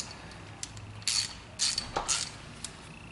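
A ratchet socket wrench clicks in short bursts while 18mm bolts are tightened on the brakes of a 2006 BMW 330i E90, close and fairly crisp, with irregular pauses between strokes.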